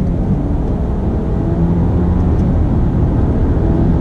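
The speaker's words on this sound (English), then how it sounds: "I like the downshifts. Very, very nice how it blips the throttle." Steady loud engine and road roar fill the cabin of a 2019 Alfa Romeo Giulia during paddle-shifted driving with throttle-blipping downshifts. The drone stays dense and constant without distinct individual blips standing out.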